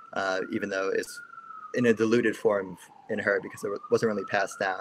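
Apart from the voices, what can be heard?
emergency vehicle sirens passing outside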